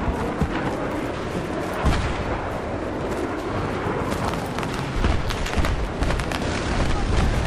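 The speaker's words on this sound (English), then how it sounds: "Friendly rocket artillery." Friendly rocket artillery in Battlefield 3 in an armored battle, a dense continuous roar of launches and booming impacts with louder bursts, close and heavy.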